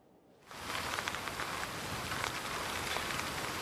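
Steady rain falls at the Turkish–Greek border crossing at Edirne on a cold day, starting abruptly and continuing as a dense, even hiss with scattered pattering drops close by.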